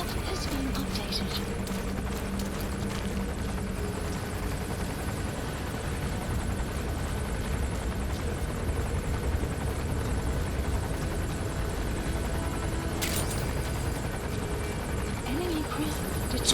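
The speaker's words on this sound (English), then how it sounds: "Helicopter's still on top of my head." A helicopter hovers directly overhead in Metal Gear Solid 5: The Phantom Pain, a steady rotor drone running the whole time under game sounds and someone talking.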